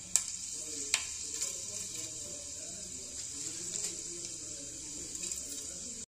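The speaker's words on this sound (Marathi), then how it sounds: "तेल तापलेलं आहे, तर आपण त्यात सर्वप्रथम मेथीचे दाणे घालत आहोत।" Fenugreek seeds sizzle in hot oil for a vada pav recipe, a faint continuous hiss with a few small crackles and pops.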